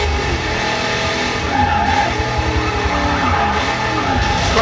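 Racing video game car on an Xbox Series X skidding and revving, with a sustained engine drone, squealing tire slides and rising and falling pitch sweeps, loud and unbroken.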